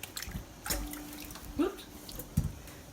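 Roma tomatoes drop into a cold water bath in a home kitchen during canning, giving a few soft plops and splashes with faint trickling between them, quiet and close.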